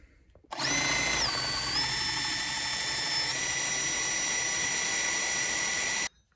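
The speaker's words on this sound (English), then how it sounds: "Let's go ahead and drill it." A power drill bores a hole through a Beetle SuperDiff differential part, a loud, steady high-pitched whine that starts abruptly, dips in pitch briefly under load, then holds until it cuts off sharply.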